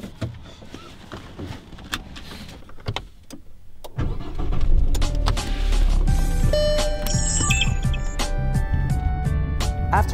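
A car starts up and then drives along a highway near a border, a continuous engine and road rumble that swells after a few seconds of quiet clicks, with no talking.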